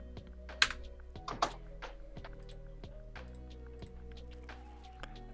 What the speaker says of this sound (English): Sounds like you're smashing those keys with your head.